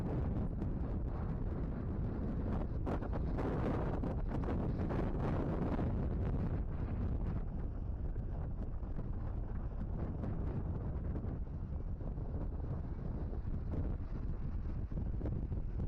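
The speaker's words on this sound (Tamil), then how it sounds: "அப்படி ஒரு காற்றுங்க." Strong wind roars continuously on a hilltop Murugan temple, buffeting the microphone with a loud, rumbling rush that barely lets up.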